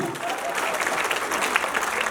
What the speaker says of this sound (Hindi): हाथ खड़े करके बजाओ जरा ताली